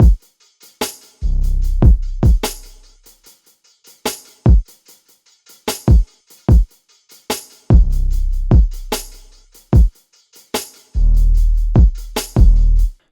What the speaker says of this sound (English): used kind of like live drums that weren't too processed